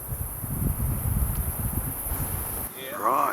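Gusty wind buffets the microphone at a morning campsite in the Hopkins Valley, with low rumbling noise, steady for a few seconds before a brief chirping sound at the end.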